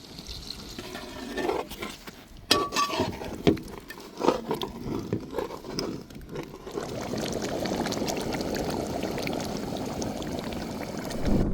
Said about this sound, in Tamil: மீதி அரை வேக்காட்டுக்கு தண்ணி சேர்க்கப்படும்